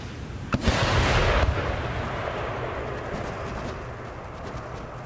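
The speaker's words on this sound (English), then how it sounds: "So another round of mortar shots going in." Mortar fire during a siege in the strategy game Empire Total War: a sharp booming launch followed by a heavy rumbling roar that slowly fades into a sustained low battle din.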